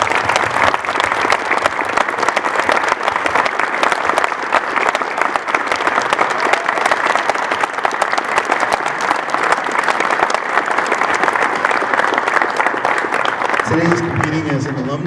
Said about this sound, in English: Everybody, if you'll join me in a round of applause.